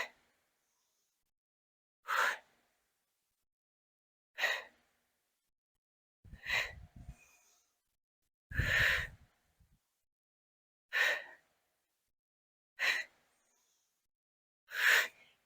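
Rhythmic yoga breathing during a sliders exercise: seven short, sharp breaths spaced about two seconds apart, each a quick forceful exhale or inhale, close and clear against silence.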